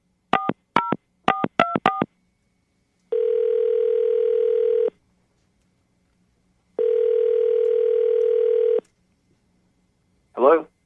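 A telephone places a call: a quick series of dialing beeps, then two long steady ringback tones separated by a pause, and a brief voice answering at the end, all loud and clear.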